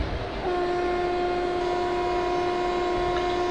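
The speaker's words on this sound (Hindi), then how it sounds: "सो हमारी ट्रेन ने हॉर्न बजा दिया है" Locomotive horn of an Indian passenger express at a junction in the Indian Train Simulator MSTS game, a loud, steady two-tone blast held continuously over a constant rumbling background.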